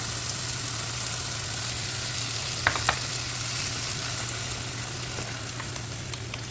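Peppers sizzle and fry in a hot pan, a steady, even hiss holding throughout with a couple of brief clinks partway through, no voices.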